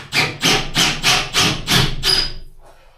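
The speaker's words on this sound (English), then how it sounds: "all we've got to do then to get these rivets out is literally just drill the centre of the rivet" A drill works into the centre of a van rivet in six or seven short, harsh grinding bursts in quick succession, loud and close, trailing off into quiet at the end.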